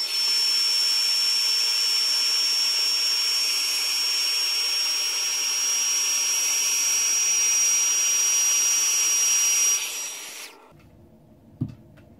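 Heat embossing gun blowing on a paper Valentine's card, a steady loud whooshing hum with a thin high whine that runs about ten seconds, then cuts off, followed by a small click.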